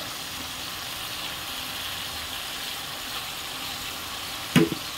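Ground pea dal paste hits a hot pan with ginger and chili, giving a steady broadband sizzle throughout, with a brief louder splatter or clatter near the end.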